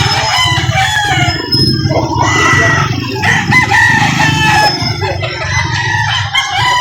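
Several roosters crow at an open-air chicken market in Lipa City, Batangas, loud overlapping calls close by, with clucking from other fowl under them and no voices.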